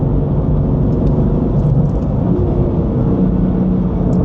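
A modified BMW M4 with a Clubsport tune under way, its engine giving a loud, continuous low rumble and drone heard from inside the car, steady throughout with no clear gear changes.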